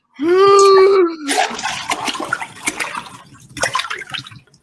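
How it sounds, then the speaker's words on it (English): A splash into warm Caribbean sea water after a fall from a speeding yacht: a strained vocal cry comes first, then a burst of splashing and churning water that rises again near the end. "The blood-warm waters of the Caribbean closed over my head."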